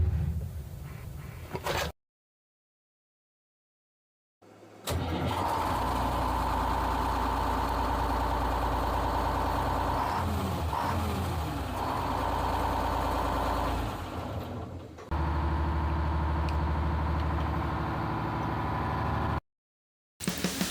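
A trawler's Detroit diesel engine cranks over and catches, then settles into a steady, deep idle with a low rumbling drone. A couple of silent gaps break the run.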